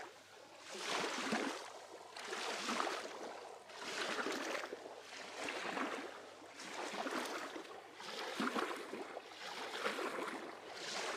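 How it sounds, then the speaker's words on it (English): Boat-wake waves wash in against a shore in steady surges, each roughly two seconds apart, a close, broad rushing swell and fade repeating with no voices. "It's just right now with the waves coming in from a boat that must have passed a little while ago."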